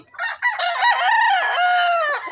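A broadstag gamefowl rooster at a game farm crows once, close and loud, a drawn-out harmonic call that rises and holds before trailing off, standing alone over a quiet background.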